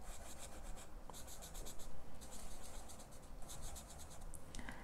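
A marker pen drawing small yellow flowers on paper, faint close scratching and rubbing in short repeated bursts of quick strokes separated by brief pauses.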